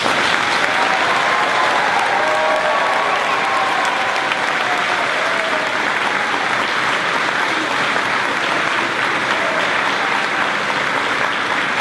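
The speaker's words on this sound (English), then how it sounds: "Please give her a round of applause." A graduation ceremony audience gives a steady, full round of applause, dense clapping from a large crowd that holds evenly loud for the whole stretch with no talking over it.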